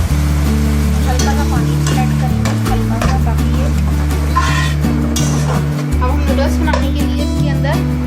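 Vegetables are stir-fried in a pan for Singaporean fried rice, giving a steady, close sizzle that runs throughout beneath a voice and sustained tonal sounds.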